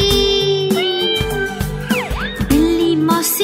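A cat meows over a children's song with music and singing, its short rising and falling calls surfacing briefly in the middle of the melody.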